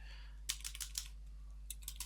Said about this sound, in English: just type in ifconfig